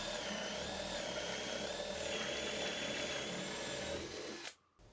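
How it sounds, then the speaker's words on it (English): A Forstner bit bores a hole in wood for an axe shaft, a steady high-pitched whine with a constant motor drone that holds loud and even before cutting off abruptly near the end. "what I have is a Forstner bit to drill a hole for the shaft of this."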